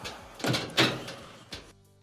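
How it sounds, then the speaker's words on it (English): A clothes dryer door is pushed shut up close, giving a few soft thunks and a final latch knock within about two seconds, with no talking. "We'll go ahead and close the door"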